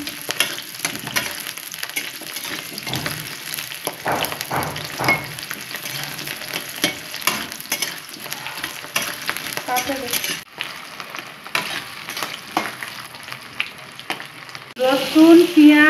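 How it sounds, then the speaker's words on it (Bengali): Garlic, onion and tomato fry in a pan with a continuous crackling sizzle, stirred with irregular scraping knocks, ending in louder, busier spattering and a short whistle-like tone. "রসুন, পেঁয়াজ ও টমেটো দিয়ে এগুলো ভেজে নিচ্ছি।"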